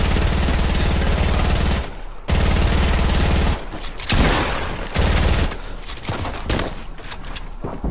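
Rapid bursts of gunfire in a squad-based shooter video game, loud dense volleys in long stretches broken by brief gaps, with no talk over them.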